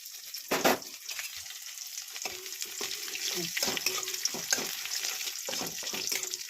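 Garlic sizzles in a pan with bay leaves for a home-style egg tarka, stirred steadily: a continuous close, bright frying hiss with scraping stirs throughout.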